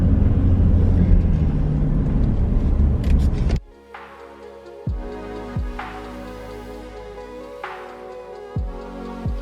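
Motor and road noise from a golf cart driving through a residential neighborhood entrance, a loud rumbling first few seconds that drops sharply, followed by quieter steady running with occasional bumps.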